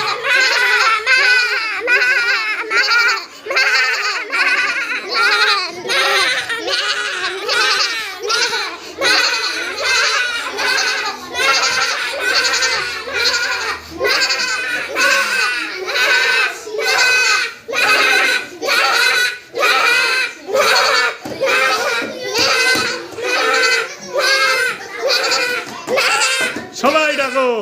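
Two children imitate a goat's bleat with their voices, giving a long run of loud, wavering bleats in quick repeated bursts, close and continuous.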